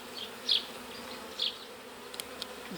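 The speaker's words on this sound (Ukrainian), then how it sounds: "Бджілки практично об'єдналися поправляю рамки, ставлю верхній корпус." Honeybees in a small hive nucleus buzz softly while frames are adjusted, with a steady low hum broken by a few brief, louder close passes of individual bees and faint light knocks near the end.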